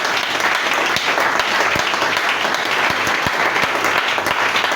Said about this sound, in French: Acclamons le Seigneur Jésus de Nazareth.